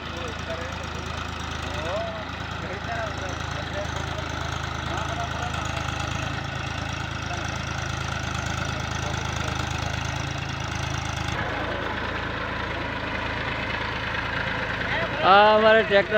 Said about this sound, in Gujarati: પેલી બાજુ ટ્રેક્ટર ચાલે છે